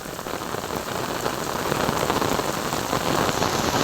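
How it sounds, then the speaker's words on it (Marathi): Heavy monsoon rain pours down hard, drumming on surfaces with a thick, continuous roar and scattered close drops that build slightly in intensity with no voices. "पाऊस खूप मुसळधार चालू आहे।"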